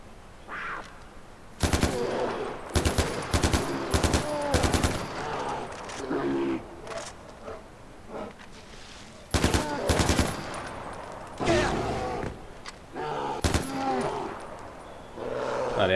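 Bursts of rapid gunfire ring out in Far Cry 4 while a snow leopard is hunted, loud and close, in several separated volleys with short gaps and roars between them.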